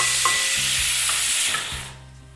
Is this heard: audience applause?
no